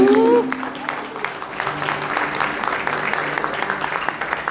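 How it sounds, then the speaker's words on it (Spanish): Congregation in a Spanish-language church service clapping loudly for the King, a steady wash of many hands applauding after a brief voice at the start, continuous and moderately near. "¿Qué le parece si le damos un aplauso fuerte al Rey?"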